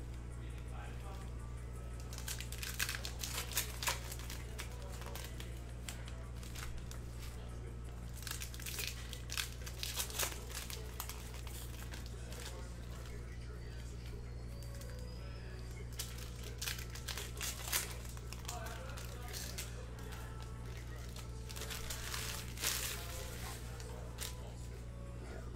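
A 2020 Upper Deck Marvel Anime trading card pack wrapper being torn open, with quiet, intermittent foil crinkling and ripping over a steady low hum and faint voices.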